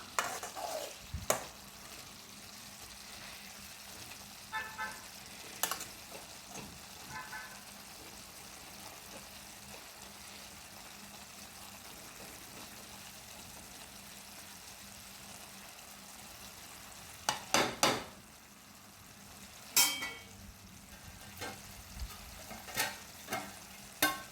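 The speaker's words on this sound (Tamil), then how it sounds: "அப்பப்போ கொஞ்சம் மூடியை திறந்து நல்லா கலரி விட்டுட்டு திரும்ப மூடி போட்டு நல்லா வேக விடலாம்." A carrot, beans and egg stir-fry cooking on a low flame in a covered pan gives a faint, steady sizzle, broken by occasional scrapes and clinks as the lid is lifted and the mixture stirred.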